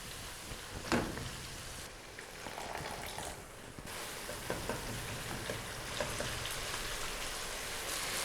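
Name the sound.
spices cooking in oil in a pan for kadhi pakora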